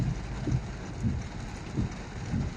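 Heavy rain pours down during a road journey through Negeri Sembilan, a steady broad hiss broken by regular low thumps every half second or so.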